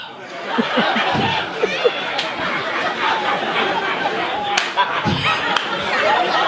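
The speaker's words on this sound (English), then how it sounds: "That's a church clap, amen." A church-style clap from a small group amid chatter and laughter on a casual talk show about dating and interracial marriage, a few sharp slaps scattered over continuous talk and chuckling.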